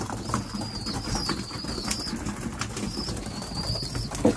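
Young racing pigeons in a breeding loft eat grain from a keeper's hand, with close, soft pigeon sounds, light scuffling and rustling heard steadily throughout.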